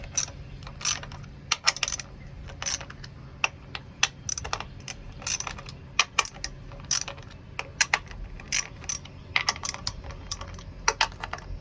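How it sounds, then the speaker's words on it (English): Ratchet clicking in bursts as a 10 mm socket breaks free the spark plug bolts on a 2017 Yamaha VX Cruiser WaveRunner jet ski, close and crisp, with short quick runs of pawl clicks separated by brief pauses. "wherever I put that ratchet, there we go. And go ahead, break them free."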